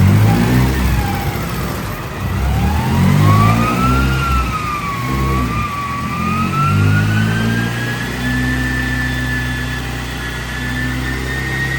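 A Trooper fitted with a big turbo runs on a dyno, engine droning loud and close as its pitch climbs steadily, with a thin whine rising above the roar through the pull.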